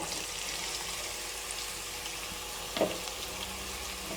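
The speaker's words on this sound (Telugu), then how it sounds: "దీనిలోకి పొట్లకాయ ముక్కల్ని యాడ్ చేసుకుందాం" Ridge gourd pieces fry in a hot tempering of oil and spices with a soft, continuous sizzle, broken by a single sharp clink of utensil against pan near the end.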